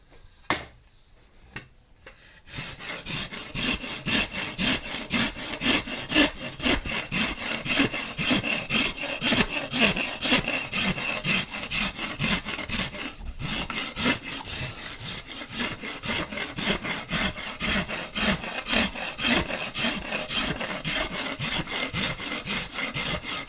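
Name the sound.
carving a wooden guitar neck with a microplane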